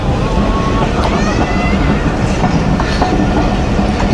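The Hazara Express rolls past loudly and close, with a dense rumble, steady wheel clatter and a few squeals throughout.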